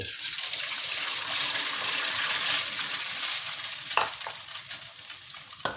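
Oil sizzles and crackles steadily as an egg fries in a pan, with a few sharper pops and taps near the end.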